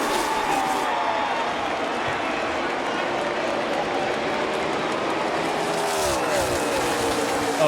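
The engines of 43 race cars roar continuously over the dense, loud din of a crowd of nearly 60,000 at the 2015 Ford EcoBoost 400, with an announcer's voice running underneath.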